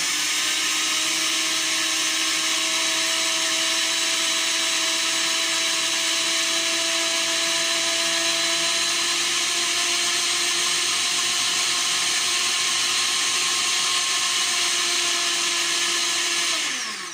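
A blender runs at a steady high whine for the whole stretch, loud and unbroken, winding down slightly at the very end.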